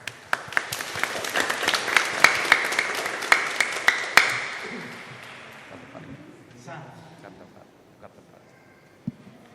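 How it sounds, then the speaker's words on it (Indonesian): A handful of sharp, scattered claps at a wedding ceremony, uneven and fairly close, tapering off after about four seconds as voices murmur in the background. "Mari kita berikan tepuk tangan."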